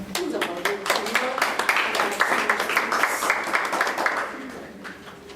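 A church congregation with children claps together in a quick, uneven patter that stays full for several seconds before tapering off, with voices mixed into the crowd.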